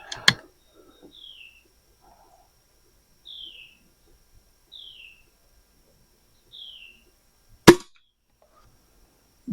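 Two sharp air rifle shots from an Anschutz 2002 firing H&N pellets, one at the start and one near the end, crack loudly in quiet surroundings while faint bird chirps sound between them.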